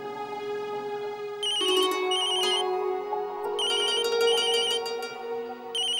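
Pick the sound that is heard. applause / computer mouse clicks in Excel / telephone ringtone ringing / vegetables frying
telephone ringtone ringing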